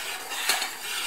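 Dissolved starch being stirred in a pot for village-style kissel, a brief close scrape and clink of a spoon against the pot over a steady bubbling, sizzling hiss.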